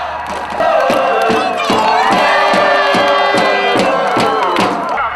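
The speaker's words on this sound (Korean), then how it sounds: "후반에 들어 박지성 선수의 추가골이 터지자 사람들은 승리를 확신하며 환호했습니다." A crowd gathered to watch Korea's football match erupts in cheering and shouting after Park Ji-sung's second goal, with loud rhythmic chanting and beats from thundersticks or drums pulsing through the roar.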